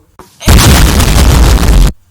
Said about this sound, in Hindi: अब जैसे दीपावली पर पटाखे बजते हैं